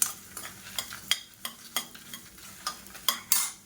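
Dried red chillies and coriander seeds frying in oil, with a spoon scraping through the pan in a steady rhythm of about a dozen close stirring strokes over a low continuous sizzle.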